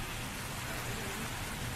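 Steady rain pours down in a dense, unbroken hiss, loud and close, with no pauses or voices over it.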